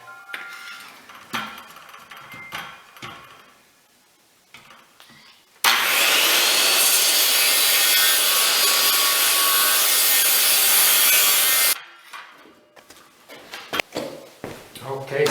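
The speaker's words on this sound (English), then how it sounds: "Circular saw set at 10 degrees to match the angle in the groove up in the log, and cut that out" A circular saw tilted to 10 degrees cuts a groove into a log for a spiral staircase, a loud steady whine lasting about six seconds. Scattered knocks and handling sounds come before and after it.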